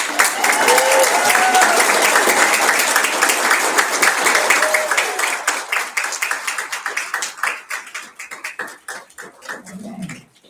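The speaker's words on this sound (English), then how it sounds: "Big round of applause." Applause from an audience at a Lambda Pi Eta honor society induction ceremony, honoring newly inducted members: dense clapping fills the room, then thins into scattered individual claps before fading out.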